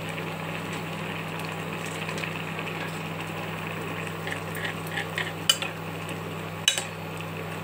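Noodles fry in a pan with chopped green chili and raw onion, a steady low sizzle under a background hum, broken by a few sharp clinks of a utensil against the pan near the end.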